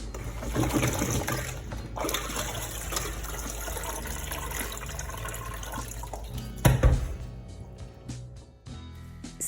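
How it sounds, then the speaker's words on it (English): Water runs steadily from a tap over leaves being washed, splashing close by, with a brief clatter near the end as the flow shifts. "first wash with running water, then soak it, and then wash again with running water."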